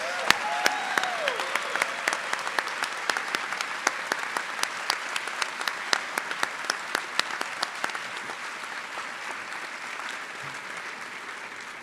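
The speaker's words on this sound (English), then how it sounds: "Please give these faculty members an enormous round of applause." Graduation-ceremony audience applauding faculty members: a large, fairly distant crowd clapping steadily with sharp nearby claps punctuating it, after a brief voice at the start, gradually thinning toward the end.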